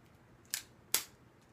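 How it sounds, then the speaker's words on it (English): Scissors trimming latex balloon scraps, two quick crisp snips about half a second apart, close but fairly quiet. "Then you just snip off the scraps."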